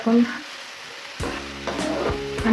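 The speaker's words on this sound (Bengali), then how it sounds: "এখন মশলাগুলো কষিয়ে নিচ্ছি।" Spices for a loitta fish curry sauté in a pan with a moderate sizzle and stirring. A tonal, voice-like hum joins partway through the short clip.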